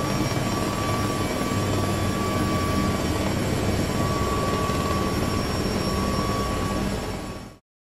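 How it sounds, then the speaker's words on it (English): An air ambulance medical helicopter in Microsoft Flight Simulator idles on a Los Angeles rooftop, its loud, steady engine and rotor whine running evenly before stopping abruptly near the end. "Shut down the helicopter."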